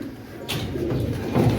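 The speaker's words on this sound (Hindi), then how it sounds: "कबूतर हमने निकाल छोड़े हैं" Pigeons coo softly in a low, rolling murmur close by, one steady call heard alone with a faint background hiss.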